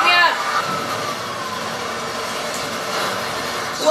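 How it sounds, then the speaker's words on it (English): A train rumbles past in the GTA V video game, a continuous loud rushing roar with a brief shout at the start and a sharper burst near the end. "Train, pick me up!"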